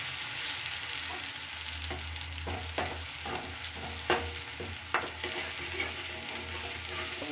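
Vegetables fry in a pan during home cooking, a steady close sizzle with a few sharp clatters and stirring knocks spaced through the middle, no voices.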